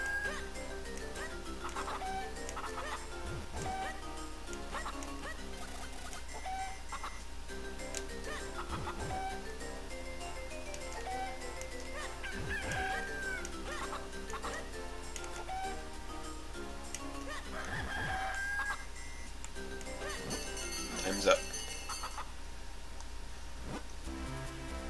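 Chickens cluck in Zelda The Minish Cap, with chiptune-style game music and ticking timer sounds throughout, plus a few short bird calls scattered over the steady background.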